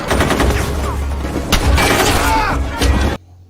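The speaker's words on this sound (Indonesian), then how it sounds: "Di saat kontak senjata berlangsung," A sniper-film firefight: rapid bursts of gunfire and sharp shots crack close and loud, with a few heavier impacts and debris noise, before cutting abruptly to near silence.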